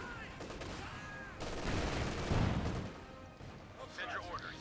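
Gunfire and artillery from a Company of Heroes 2 1v1 match as a command tank and infantry trade fire, with dense overlapping shots and a heavier burst in the middle, all under a continuous commentator voice.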